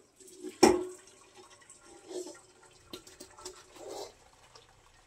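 Cold water is poured over boiled homemade pasta. A sharp knock opens a faint, uneven run of splashing and trickling at a low level.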